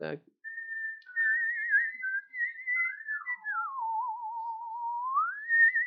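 A single person whistles a wavering melody close up, sliding between high and lower notes with a warbling vibrato, no talking alongside.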